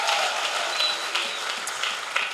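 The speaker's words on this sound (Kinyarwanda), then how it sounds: "Reka dukomere Imana yacu amashyi" A church congregation breaks into dense, sustained clapping that fills the room at an even level for a couple of seconds, with no talking over it.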